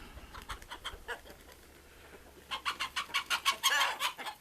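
Chickens cluck in rapid bursts, sparse at first and then a dense, agitated run of loud clucks toward the end, with low rumble underneath.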